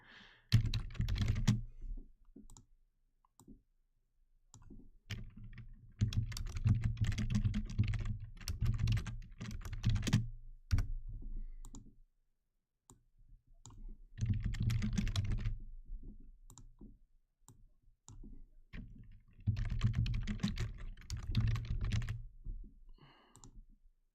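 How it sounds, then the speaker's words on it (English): Bursts of fast typing on a computer keyboard at a live hockey play-by-play streaming desk, clattering keystrokes in several spurts separated by short silent pauses, close and clear with no speech. "I gotta stop double hitting with the typing"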